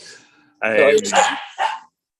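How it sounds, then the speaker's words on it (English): A dog barks loudly nearby, two or three rough barks in quick succession, with a faint voice just before. "Sorry about the dog."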